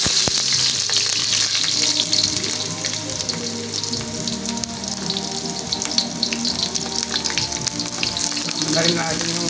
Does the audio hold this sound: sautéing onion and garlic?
yes